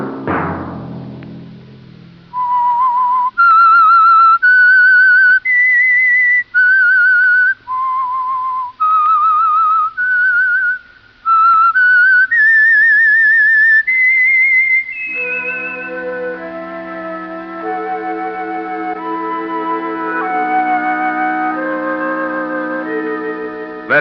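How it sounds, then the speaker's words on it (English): A clear, loud whistled signal tune of sustained, stepping notes plays alone as a radio program theme, followed by a full orchestral passage swelling underneath with no whistling. "Let that whistle be your signal for the Signal Oil program"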